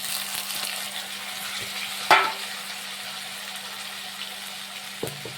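Onions and tomatoes frying in a pan, a low steady sizzle with one sharp clatter midway and a faint knock near the end, no talking.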